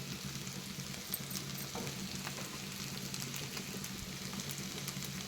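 Chicken fries in a pan with mint and herbs, giving a steady, faint, close sizzle and crackle that continues evenly throughout.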